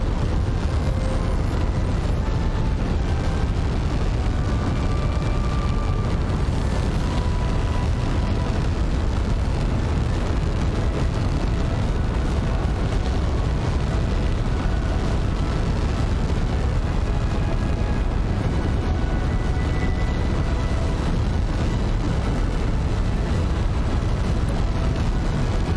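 A Kerbal Space Program 2 rocket launch in the game, a dense, continuous roaring rumble heavy in the low end that holds steady and loud from start to finish with no breaks.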